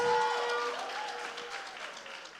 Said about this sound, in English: Come on, give her a better round of applause than that.